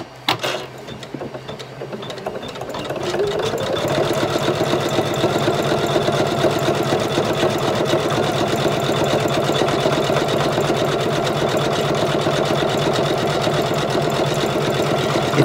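An embroidery sewing machine starts up and stitches zigzag and satin stitch around an appliqué in the hoop, a few quiet clicks giving way to a loud, steady, rapid mechanical whir that continues without talk.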